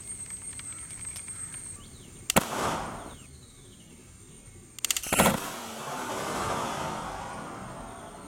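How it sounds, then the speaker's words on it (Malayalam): A homemade calcium carbide gun used to scare monkeys fires two sharp, loud bangs about two and a half seconds apart outdoors. Each blast rings and decays briefly, with quiet ambience between and no talking. "അപ്പോൾ ഈ ഒരു കാർബൈഡ് തോക്കിന് നല്ല സൗണ്ട് ഉണ്ട്."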